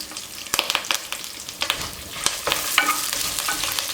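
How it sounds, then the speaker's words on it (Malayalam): A spoon scrapes and clinks irregularly through Kerala-style dried fish curry with ground coconut in a large pan, with a soft steady sizzle underneath and no talking. "ഇതിപ്പോൾ ഇളക്കാൻ വേണ്ടിയിട്ടാട്ടോ വലിയ ചട്ടി വെച്ചിരിക്കുന്നത്"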